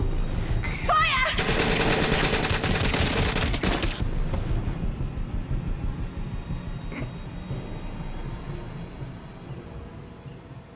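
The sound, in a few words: machine gun fire in The Complex interactive movie game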